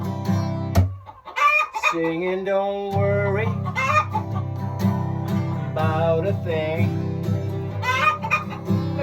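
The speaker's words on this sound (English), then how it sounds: "Look at that chicken, it's not worrying." A chicken clucks with short, uneven calls under a man singing along to music.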